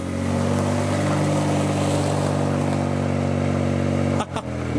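A car fitted with a newly replaced exhaust pipe drones loudly and steadily up close with a rough, rattling rally-car exhaust note, on a windy day outdoors, dipping briefly near the end.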